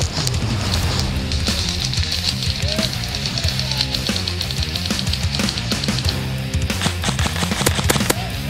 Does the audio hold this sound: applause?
no